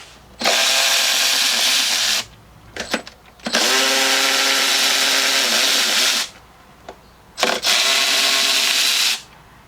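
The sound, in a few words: power tool removing 10mm nuts from Jeep intake manifold studs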